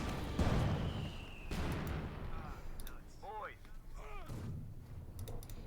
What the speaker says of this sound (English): We get in the incendiary mortar round in the center to deny the terrain there to Caosak.